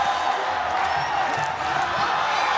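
A large crowd of MMA fans at a bantamweight bout cheers and claps continuously, a dense, fairly loud wash of applause and voices with no distinct breaks.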